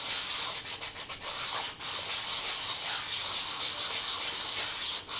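Sandpaper worked in circular strokes over a wooden piece being prepared for painting, a continuous close hissing rub with slight rhythmic swells, loud and alone.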